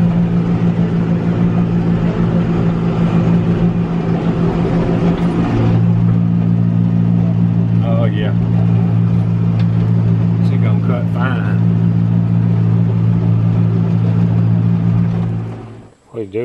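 A tractor engine with a cutter attached runs loud and close, a steady low drone that shifts up in pitch partway through as it is revved, then cuts out abruptly at the end.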